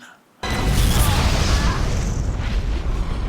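A sudden loud cinematic explosion from the film Tremors 5 bursts in after a quiet moment, followed by a roaring, debris-filled rumble that slowly fades.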